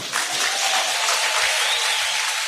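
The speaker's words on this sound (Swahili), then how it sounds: "hebu tumpigie makofi Henoko kwanza" A church congregation applauds during a sermon by Bishop Gwajima, dense sustained clapping from a large crowd that fills the space evenly for a couple of seconds with no voices over it.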